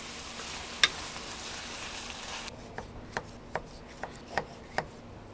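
Crushed coriander leaves, green chilli, ginger and garlic frying in a pan for a Kerala green chilli chicken curry: a steady close sizzle that drops away midway, followed by a series of sharp, evenly spaced taps.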